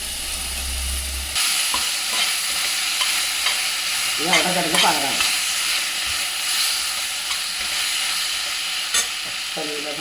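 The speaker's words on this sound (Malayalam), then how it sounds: "ഈ നമുക്ക് ആ കോഫ്ത വറുത്തെടുക്കണം" Malai kofta balls fry in hot oil with a steady, close sizzle and hiss, stirred now and then, while a voice speaks briefly.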